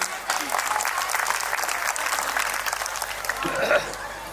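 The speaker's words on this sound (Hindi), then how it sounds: "एक बार तालियों के साथ मुझे मन भी दीजिए आप लोग।" An audience applauds a poet at a Hindi poetry recital in Chhattisgarh, a dense, sustained round of clapping with a few faint voices and chuckles mixed in, swelling slightly near the end.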